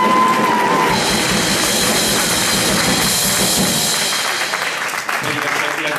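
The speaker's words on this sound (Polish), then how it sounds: "Wielkie oklaski." An audience applauds loudly and steadily at a jazz and blues carol concert in a community hall in Elbląg. The clapping runs for several seconds and tapers near the end while a host speaks over it.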